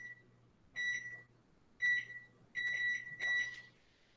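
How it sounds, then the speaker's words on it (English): An oven timer is being set for cookie baking, giving four short electronic beeps in an uneven pattern over a faint low hum, quiet and close. "I'm just setting my timer for 14 minutes"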